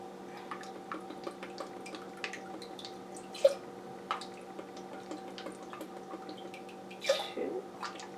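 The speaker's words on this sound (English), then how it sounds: "And to the clams, you're going to add 3 tablespoons of lemon juice." Three tablespoons of lemon juice going onto clams for a baked clam dip in a home kitchen: a few faint drips and small splashes, two slightly louder ones, over a steady low background hum.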